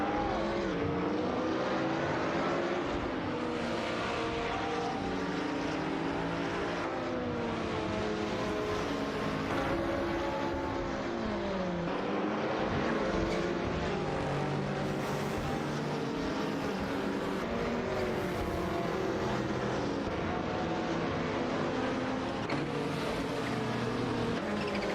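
Race cars in a racing video game, including a Ford Mustang GT4 and a Subaru Impreza, keep up a steady, loud engine drone with shifting pitch and no talk over it.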